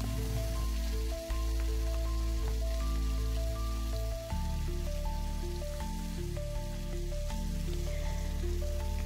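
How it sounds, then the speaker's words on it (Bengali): Pabda fish sizzle steadily in hot oil in a pan, with more fish being added; a continuous close crackle runs under melodic background music throughout. "দুটো মাছ আমার ফ্রাই হয়ে গেছে, আবারও দুটো মাছ আমি অ্যাড করে দিচ্ছি"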